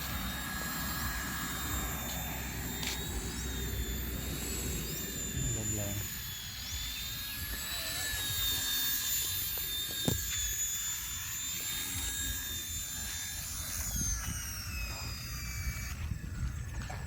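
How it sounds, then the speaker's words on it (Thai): WLtoys XK K127 Eagle 4-channel flybarless RC helicopter landing, a steady high-pitched whine of small electric motors and rotor buzz close by, with pitch shifting slightly as it settles, a brief click midway. "เดี๋ยวผมเอาฮอลงจอดนะครับ"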